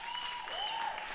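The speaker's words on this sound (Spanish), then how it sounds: "Que se oiga el aplauso, de nuevo." Studio audience of a Costa Rican music television show applauds in a brief, even wash of clapping, with a few thin whistles rising and falling on top.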